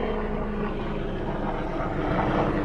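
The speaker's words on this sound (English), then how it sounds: "That is a real helicopter up there." A real helicopter flies overhead during an FPV drone test flight, its low rotor drone a steady, continuous rumble at moderate distance that carries through the whole stretch with no other sounds over it.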